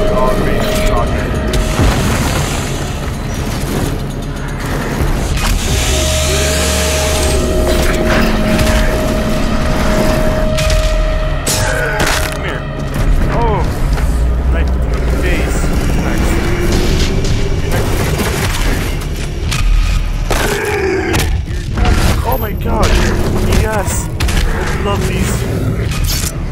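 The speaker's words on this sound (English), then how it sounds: "they done messed up by fully automated shotgun" Fully automatic shotgun firing in the video game Doom Eternal, heavy booming blasts in a dense, continuous barrage with mechanical clatter and game effects, while a person talks excitedly over the gunfire.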